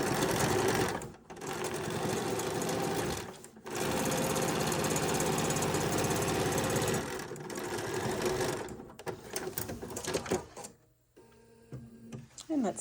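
Sewing machine with a standard sewing foot stitching fabric for a bag, a close, steady rapid whirring run broken by brief pauses, then short stop-start bursts near the end.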